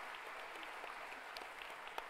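A large hall audience of about 1300 people applauds in a steady, dense wash of clapping that stays even throughout, with no voices over it.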